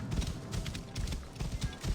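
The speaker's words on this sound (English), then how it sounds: "Let's ride that horse now." Horse galloping in Assassin's Creed Origins, a rapid, rhythmic clip-clop of hooves pounding close and steady for the whole stretch.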